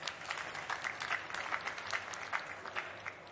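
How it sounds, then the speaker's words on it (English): An audience at a consumer-tech pitch competition gives the jury a round of applause. The clapping is moderately loud and continuous, with individual claps standing out in the crowd's steady patter. "Big applause for our jury."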